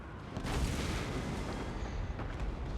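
Booming artillery fire and explosions in the video game Total War Warhammer 2 during a 3v3 battle, a dense, rumbling barrage of distant impacts throughout.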